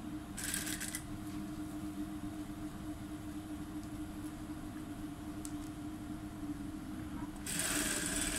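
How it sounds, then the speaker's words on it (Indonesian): Sewing machine stitching a hidden zip onto the end of a dress sleeve, a steady motor hum running throughout with brief bursts of higher whirring near the start and again at the end, fairly quiet with no talking. "Jahit pada sebelah pula."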